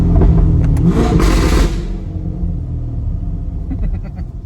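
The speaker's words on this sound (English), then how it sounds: "That sound right there that you just heard, the high pitched rev." A tuned Chevrolet C8 Corvette engine revs loud and high-pitched for about a second and a half, then settles into a deep, steady idle rumble, heard close up.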